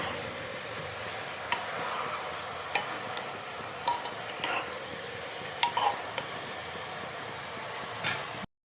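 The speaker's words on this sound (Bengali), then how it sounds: "চিকেনগুলো দিয়ে দেওয়ার পরে বেশ অনেকক্ষণ ধরে একটু ভালো করে কষতে হবে।" Chicken pieces for a stew sauté in a pan with a steady low sizzle, broken by a few sharp clinks and scrapes of a spoon stirring against the metal, close and fairly quiet.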